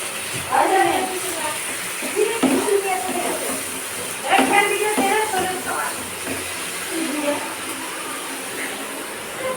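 Water runs steadily over someone's hands in a home kitchen, a continuous close hiss and splash. A person talks over it throughout.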